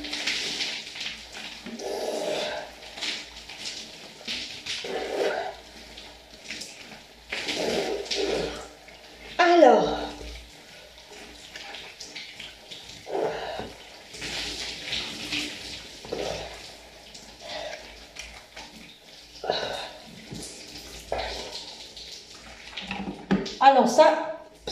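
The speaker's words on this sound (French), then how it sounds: "Alors, on va verser l'eau. On va laver au premier tour." Water poured over hair during a first shampoo wash, splashing and running in uneven bursts of varying loudness, with someone talking throughout.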